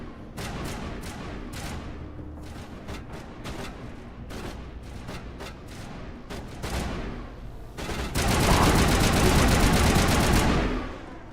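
Enemy turrets firing in the sci-fi shooter Mass Effect: rapid sharp gunfire bursts crackle in quick succession, then a loud sustained roaring barrage near the end, with no talk.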